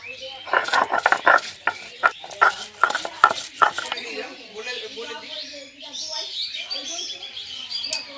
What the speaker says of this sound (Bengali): পেঁয়াজগুলো বেটে নিচ্ছি